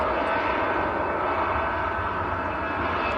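EasyJet jet plane departing Manchester Airport on a short takeoff run, a brief burst of steady, loud engine roar nearby with no speech.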